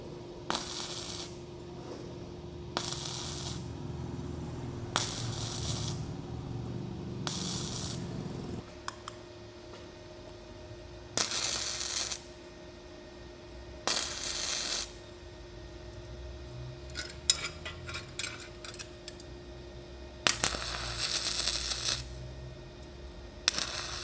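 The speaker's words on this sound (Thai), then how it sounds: "ถ้าเราจะเชื่อมแต้มอ่ะ เดี๋ยวเรามาลองที่ไฟที่ 60 นะครับ" An Andeli MIG270N MIG welder set to 60 spot-welds thin 0.8 mm metal in a series of short, loud crackling bursts of a second or two each, separated by quiet gaps, with a faint steady hum underneath.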